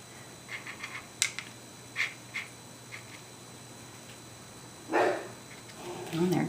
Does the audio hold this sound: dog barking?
yes